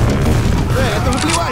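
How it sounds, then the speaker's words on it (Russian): A grenade blast rumbles in Left 4 Dead 2, a loud, sustained boom amid gunfire-like crackle, with a voice shouting over the din. "Граната, ложись!"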